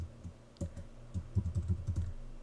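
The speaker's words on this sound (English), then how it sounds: "Type in the person's name." A name being typed on a computer keyboard, a short burst of quick, close key clicks after a few isolated taps, quiet and without talk.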